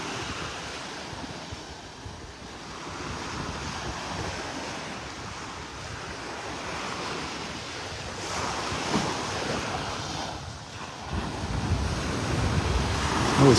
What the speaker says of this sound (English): No place better than the beach.